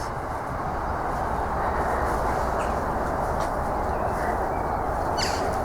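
A train passing behind trees near the ruined St Pancras Priory in Lewes makes a steady, moderately loud rumbling roar, with faint bird chirps above it.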